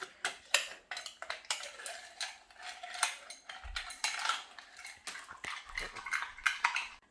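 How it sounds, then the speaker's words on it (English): A spoon stirs mint lassi with a pinch of salt and cumin powder in a glass, giving irregular light clinks and taps against the side, close and fairly quiet with short pauses between the strokes and no talk. "Now give it all a stir"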